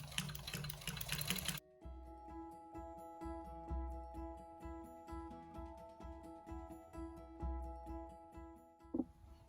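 A sewing machine runs steadily with a longer stitch length through a vinyl pouch, its rapid mechanical whir pulsing in short bursts and pauses after a loud noisy start, up close and with no talk.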